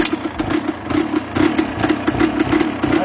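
A 125 CR motorcycle engine idles just after a restart, cold and running low, with a close, fast, uneven pulsing putter.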